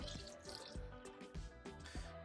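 McKee's 37 N-912 car wash soap, two ounces, is poured into a bucket of four gallons of water, making a very faint, soft dribbling and dripping splash close by with no talking.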